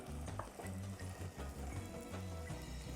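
A pot of island-style rice and beans with bacon, onions and celery simmers and is stirred, giving a steady low bubbling and soft scraping strokes at close range with no voices.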